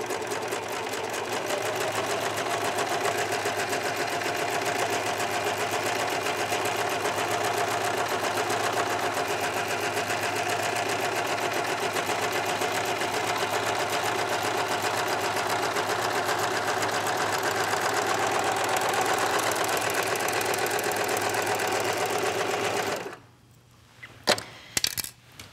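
A serger sewing machine stitches a skirt seam in a fast, steady mechanical whir that runs continuously for over twenty seconds, then stops, leaving a few light clicks and taps.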